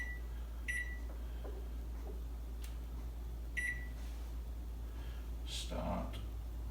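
Short electronic beeps from an oven's control panel being set to bake and preheat at 300 degrees, a few separate chirps over a steady hum, with a person talking in between.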